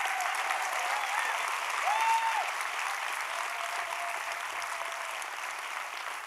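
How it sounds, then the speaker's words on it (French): Steady, dense applause from an audience greets Gabrielle Arnoux, president of Labo Indigo, at a SUBLIMES fashion show, holding an even level throughout with a faint tonal whine briefly rising above it. "Applaudissements pour Gabi, s'il vous plaît."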